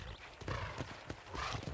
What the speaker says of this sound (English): I gotta ride my horse there.